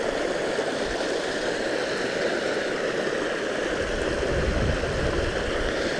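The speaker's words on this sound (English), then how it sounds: "Always like the sound of water." River water flowing steadily on a calm day near the Aurora Sluice, a continuous broadband rush and burble that stays even and unbroken throughout, with no voices.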